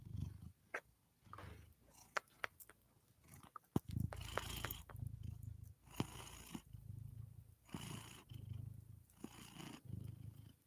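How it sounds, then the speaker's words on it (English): A cat purrs softly in rhythmic bursts while crunchy chewing of a saltine cracker clicks and snaps up close, quiet overall with brief louder crunches. "Can you hear her purrs?"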